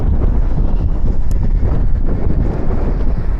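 Wind roars into the microphone during a bike ride on a cloudy, cold day in the city, a loud continuous buffeting rumble with no talk.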